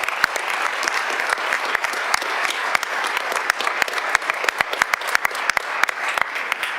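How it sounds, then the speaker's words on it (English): Audience applause at a Kansas City mayor's state of the city address, a steady round of clapping from a large crowd with sharp individual claps standing out, continuous and moderately loud without speech. "Let's give Superintendent Collier a round of applause."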